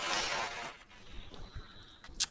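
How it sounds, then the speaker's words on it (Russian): A car crash in the driving game BeamNG.drive involving a monster truck, opening with a loud burst of crunching and shattering that fades into scattered clinks of debris and ends with a sharp glassy crack. "Тачка разбилась, конечно."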